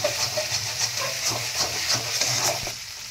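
Cauliflower curry with salt fries in a pan while it is stirred again and again, producing a continuous hissing sizzle broken by rhythmic scraping strokes of the spatula, close and fairly loud, with no voices.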